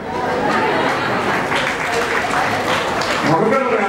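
Wedding guests clapping, a dense crowd patter heard under steady chatter and a nearby voice speaking throughout, with light laughter mixed into the gathering noise.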